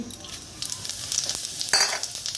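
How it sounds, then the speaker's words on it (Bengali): Whole cumin seeds hit hot oil with dried red chilli for tempering, giving a moderate crackling sizzle with small pops that grows denser and brighter toward the end. "এবার আমি গোটা জিরে দিয়ে দিচ্ছি"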